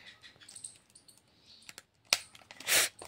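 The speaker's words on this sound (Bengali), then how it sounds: "তো বন্ধুরা এই মেমোরি কার্ডটা লাগিয়ে দিই আমরা তাড়াতাড়ি শীঘ্রই করে" A memory card slides into a Canon camera with small plastic clicks and light ticks, then a few louder scraping snaps toward the end, all close and quiet with no voices.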